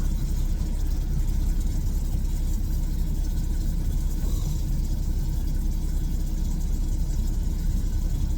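A truck's engine drones steadily while driving, a constant low rumble with road noise and no clear changes in pitch.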